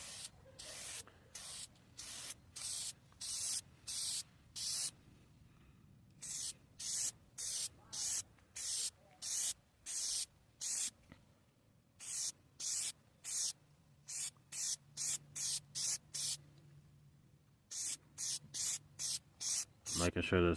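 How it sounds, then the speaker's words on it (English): Repeated short bursts of K&N red filter oil sprayed from an aerosol onto the pleats of a pod air filter, close and steady, in rhythmic clusters with brief pauses between them. "you want to get your red oil, the K&N, and you want to spray this on each pleat"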